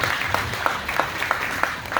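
Audience applause after a successful demonstration flight, a steady wash of clapping with a few sharper claps standing out, fairly close and moderately loud, with no one talking over it.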